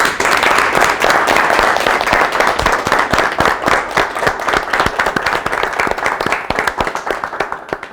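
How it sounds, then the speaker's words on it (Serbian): Applause from a school audience at a Saint Sava celebration in Novi Sad, honoring two performers who could not attend: dense, steady clapping from a crowd filling the room, sustained loudly throughout and easing slightly near the end. "pozdravim ih jednim velikim aplauzom"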